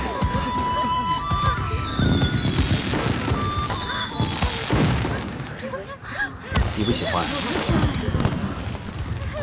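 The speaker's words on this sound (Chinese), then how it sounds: "这烟花虽好，也是热闹" Fireworks burst repeatedly in a festive night display, sharp pops and booming cracks arriving in irregular clusters with crackling tails. A short spoken line is heard over the bangs.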